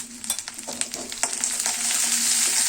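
Garlic, ginger and green chilli paste sautéing in a pan for a pea and spinach curry, a bright continuous sizzle that swells louder, with quick scraping stirs near the start.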